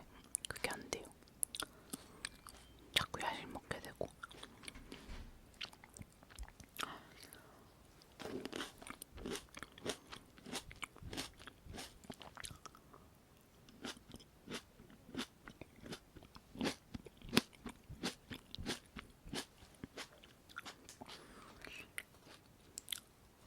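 Cherry tomatoes bitten and chewed close to a sensitive recorder, with a steady run of crisp bites, wet crunches and soft mouth sounds under quiet, whispery talk.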